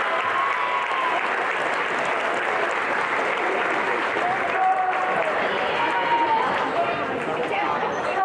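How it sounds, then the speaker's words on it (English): A crowd in a high school gym at a boys' basketball game applauds steadily for graduating seniors and their parents, continuous clapping with scattered voices and footsteps mixed underneath. "Please join me in thanking those seniors and their parents with a round of applause"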